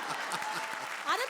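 A studio audience at a comedy show claps in brief steady applause, with voices over it.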